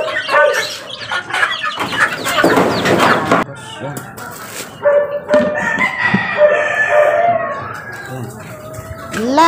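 Pet chickens and a rooster cluck and chatter steadily at feeding time on a backyard poultry run, with a rooster's crow rising near the end and a person talking over the birds.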